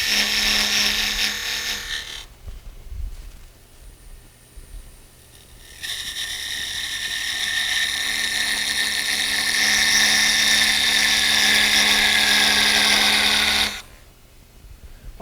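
Gouge cutting a relief area in wood turning on a spindle lathe, a steady hissing scrape that starts briefly, pauses, then runs loud and continuous for several seconds before stopping abruptly, no talking.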